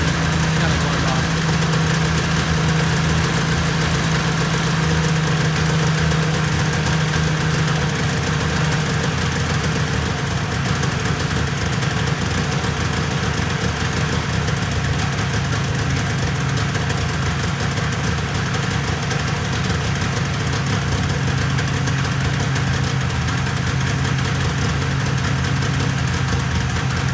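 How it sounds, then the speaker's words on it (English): A 1996 XLT triple, run without choke and on a gas-oil mix, idling high just after startup, with a steady rough mid-pitched engine drone and knock holding throughout, loud and close. "So idle's high at first, and it will drop too."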